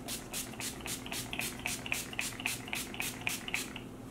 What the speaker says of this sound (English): just to set the face, I'm going in with the Mario Badescu Facial Spray with Aloe,